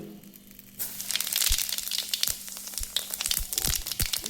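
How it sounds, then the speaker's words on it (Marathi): Cumin seeds hit hot ghee and burst into a loud, steady sizzle that keeps crackling and popping, broken by a few sharp clinks of a spoon against the pan. "असं मस्तपैकी तूप चांगलं कडलेलं आहे आणि आता मी टाकून घेते जिरं"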